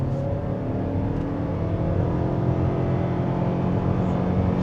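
A 2025 Lexus NX 350h hybrid accelerates in Sport mode, its engine rising in a steady, smooth whirring drone heard from inside the cabin, with no talking.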